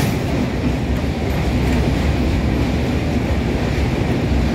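A train rolls across a railway bridge over a full river, one of two parallel up and down spans, giving a steady, loud, continuous rumble with faint rhythmic clatter and wind throughout.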